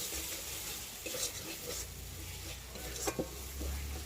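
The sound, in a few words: ginger garlic masala being stir-fried in a pan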